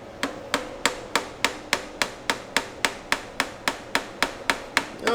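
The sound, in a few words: whacking pry bar to pop VW Jetta alternator off bracket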